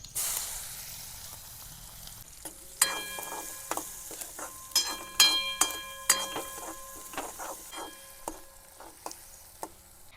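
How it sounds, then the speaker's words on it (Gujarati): Mustard seeds, cumin, asafoetida and onion fry in oil in a pan, with a low hiss rising into a busy run of crackling pops and faint clinks of stirring, close but fairly quiet. "રાઈ ફૂટી ગઈ છે, આપણે જીરું નાખી દઈશું. થોડીક હિંગ નાખી દઈશું. ડુંગળી,"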